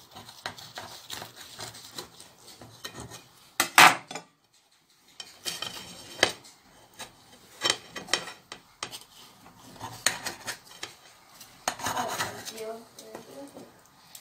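A knife cuts through a crisp, flaky Moroccan pastilla filled with raisins, giving intermittent crackly rubbing and scraping bursts separated by short pauses, close by, with a voice talking at points.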